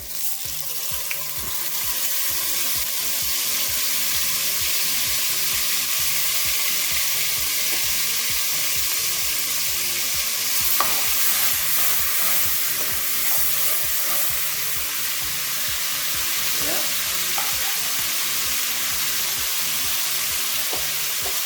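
Chicken pieces frying with andouille sausage in a pot, a steady close sizzle with occasional stirring clinks, no talking.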